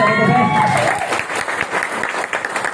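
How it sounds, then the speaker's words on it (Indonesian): Loud, close audience applause at a business gathering, a dense burst of clapping with crowd noise, following a voice that trails off at the start. "Tepuk tangan untuk PTBS"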